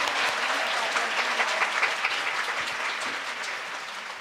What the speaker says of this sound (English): Please give another great round of applause for His Excellency Petro Lucinski